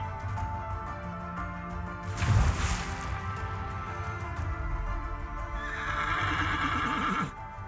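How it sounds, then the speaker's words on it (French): The legendary black horse of Trois-Pistoles gives a loud, close whinny, then a second, higher neigh. Both sound over a dense, rumbling background of hoofbeats and clatter. "le cheval noir galope sans répit aux alentours de Trois Pistoles"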